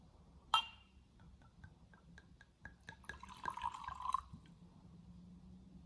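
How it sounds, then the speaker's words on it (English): Tequila pours and trickles into a glass with a few clinks and drips, a brief splashy burst in the middle, quiet and close. "pour me a drink."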